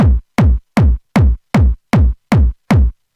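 Eight punchy electronic kick drum hits in a steady, even beat, each a deep booming thump with a quick decay, loud and alone.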